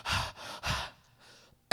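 A voice imitating an old woman panting for breath after running, several quick heavy breathy gasps in a row, close and fairly loud, ending with a sharp burst.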